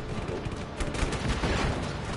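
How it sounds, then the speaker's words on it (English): Sustained gunfire aimed at the player in Just Cause 3, a dense, continuous rattle of shots blended with loud game action throughout. "Damn, shooting at me."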